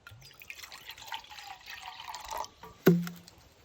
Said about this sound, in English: I'm just going to pour some water in.